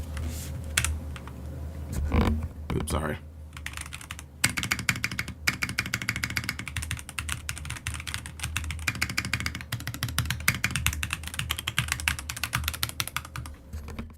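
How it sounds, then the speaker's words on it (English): Continuous rapid typing on a Redragon computer keyboard, close and loud, a steady clatter of keystrokes; a voice briefly speaks near the start. "I love the sound of this keyboard."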